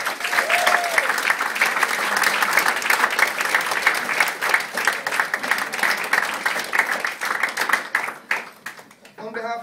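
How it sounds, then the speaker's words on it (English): Wedding guests give the venue staff a round of applause, loud sustained clapping from a full room that carries on for several seconds before thinning out and fading near the end. "can we have a round of applause, please,"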